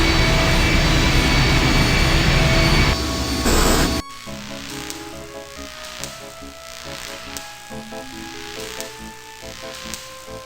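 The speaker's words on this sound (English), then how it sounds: "The engine's starting up again." An aircraft engine starts up in the 1995 MS-DOS game I Have No Mouth, and I Must Scream: a steady jet-like roar and whine that abruptly drops into a lower, throbbing mechanical hum with rhythmic pulses.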